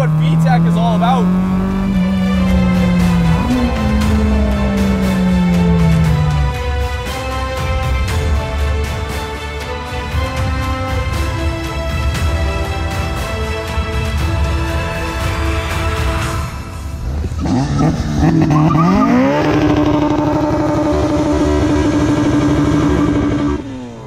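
An Acura RSX with a naturally aspirated VTEC engine built to rev to 9,000 RPM roars loudly from inside the car, revving and climbing through gears with rising pitch sweeps, a brief lift, then pulling hard again.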